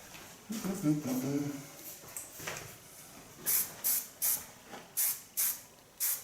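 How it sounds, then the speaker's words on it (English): Hairspray hisses in a series of about seven short, regular bursts during a hair-styling session, following a stretch of quiet talk in the room. "Using just a small amount of hairspray, not too much."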